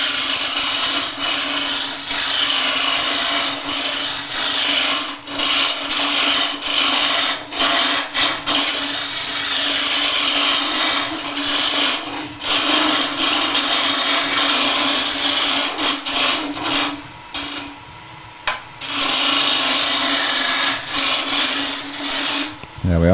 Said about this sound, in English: I'll use the roughing gouge just to quickly take some of that waste wood out